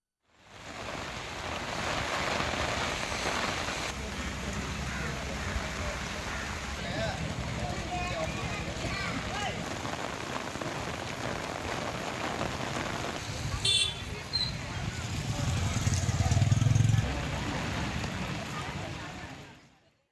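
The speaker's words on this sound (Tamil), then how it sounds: "பலத்த காற்றுடன் கனமழை பெய்தது" Heavy rain lashing down with strong wind in a village in Tamil Nadu, a dense continuous roar of drops hitting surfaces for the full twenty seconds, steady and loud with no breaks.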